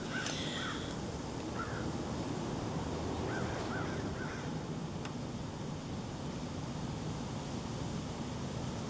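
Several crows caw faintly in the distance, a few scattered calls early on, all set against a steady, loud background hiss.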